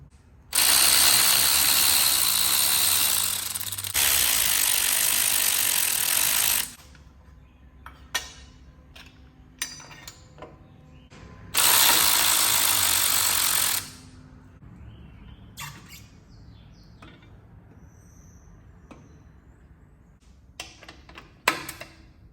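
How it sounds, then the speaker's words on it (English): A ratchet works on a 1998 Harley-Davidson Softail Springer, taking off the front brake caliper and front fender. Long, loud, buzzing runs of rapid clicking alternate with slower hand-turned clicks and scattered metal taps nearby. "I gotta go ahead and take the caliper off and the front fender"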